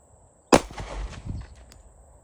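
One sharp, loud pistol shot from a Metro Arms Commander on a shooting range cracks out suddenly and rings away in a reverberant tail.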